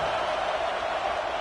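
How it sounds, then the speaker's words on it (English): Football stadium crowd roaring steadily during a red zone defensive stand at a college game, a dense sustained wall of noise with no breaks. "And here comes the noise. This crowd is trying to inspire this defense to make a big red zone stop."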